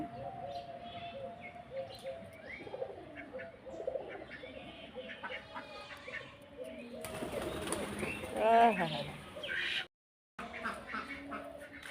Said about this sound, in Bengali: হাঁসের খাবার কবুতরগুলো খেয়ে নিচ্ছে।